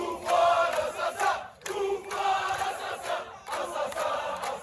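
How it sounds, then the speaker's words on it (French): A small crowd outside Koléa prison, 60 km from Algiers, chanting in loud rhythmic bursts with short pauses between shouted phrases, many voices in unison nearby. "une petite foule se presse devant la prison de Koléa"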